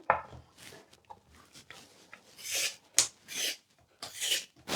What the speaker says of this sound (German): werde ich in dieser Zeit auch noch die Kartoffeln schälen